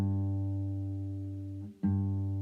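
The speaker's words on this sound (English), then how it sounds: "Now we're going to tune it down to a G," Acoustic guitar's fifth string, tuned down to G, sustaining a low note that fades slightly before being plucked again and ringing on, close and alone.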